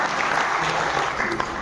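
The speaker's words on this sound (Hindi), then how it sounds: "आपसे अनुरोध करूंगा कि एक बार ताली बजाते" A gathered audience at a local newspaper event claps in a dense, continuous burst of applause. It is loud and close, filling the whole moment.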